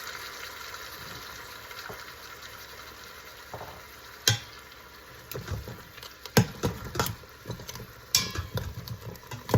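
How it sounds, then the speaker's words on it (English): Braised lamb in an Instant Pot is deglazed with red wine, giving a soft sizzle and bubbling as a spoon scrapes and stirs. Irregular clinks and scrapes against the pot grow more frequent toward the end. "now we're going to deglaze this pot with a little red wine."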